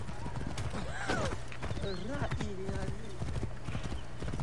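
Hooves clip-clop in the video game Assassin's Creed Origins, a quick rhythmic trot with a horse whinnying partway through, heard under someone talking over the gameplay.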